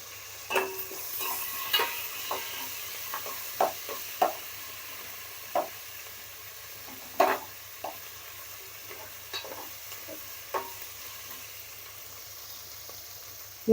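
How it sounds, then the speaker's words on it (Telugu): Curry leaves and asafoetida crackle and sizzle in hot tempering oil for a lentil dish, a steady low hiss punctuated by sharp pops and spatters at irregular intervals, fairly quiet and close. "కరివేపాకు, తాలింపుకి ఇంగు వేస్తున్నాను."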